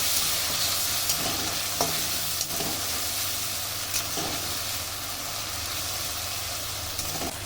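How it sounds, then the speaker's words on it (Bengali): A spice paste of ginger, turmeric and cumin fries in oil with a constant bright sizzle, punctuated by occasional spatula taps and scraping stirs against the pan, close up. "খুব ভালো করে মশলা কষিয়ে দেবো"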